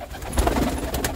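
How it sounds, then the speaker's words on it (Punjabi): Red China pigeon cooing up close, a single throaty coo swelling briefly at the centre over steady low background rumble, no voices. "ਇਹ ਇੱਕ ਲਾਲ ਚੀਨਾ ਕਬੂਤਰ"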